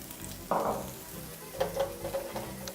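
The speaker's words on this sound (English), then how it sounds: "using a spoon, just give that a mix" A spoon stirs rice through a pot of boiling water, a sudden scraping swish followed by softer clinks and swirling bubbles, close and moderately quiet.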